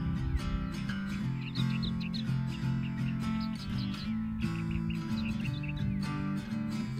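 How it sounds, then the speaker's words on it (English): A large flock of yellow-tailed black cockatoos calls from a pine forest near a lake, their repeated high wailing cries scattered over a steady, dense background of other tonal noise, moderately loud and continuous with no voices. "There's a heap of yellow-tailed black cockatoos have moved into the pine forest nearby."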